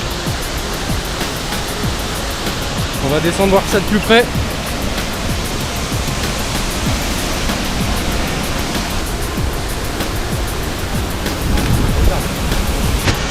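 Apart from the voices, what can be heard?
Cascade de la Fraîche waterfall in Vanoise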